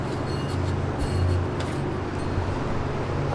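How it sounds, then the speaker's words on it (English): A 1973 Nova engine, damaged by fire, turns over freely by hand, giving a steady close mechanical churning with a low rumbling undertone and no talking. "Look how easy this motor spins over"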